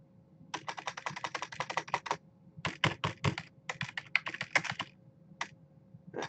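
Rapid keystrokes on a computer keyboard clatter in quick bursts with short pauses between them, crisp and close in a quiet room.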